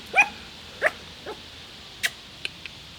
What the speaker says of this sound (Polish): Nawet nie wiedziałem, że szczeka.